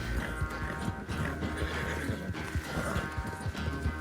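Horse galloping in Red Dead Redemption 2, a steady, dense clip-clop of hooves running close and loud throughout, with the animal's breathing mixed in.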